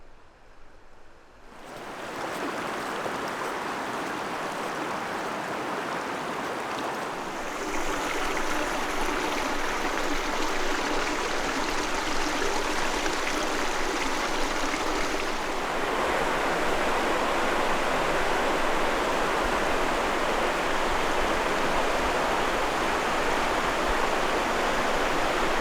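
The Virgin River flows through the Zion Narrows with a constant rushing roar of water that swells louder after a short quiet start and then holds steady and close, with no talking.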